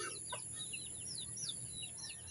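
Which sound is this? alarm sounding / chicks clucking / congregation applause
chicks clucking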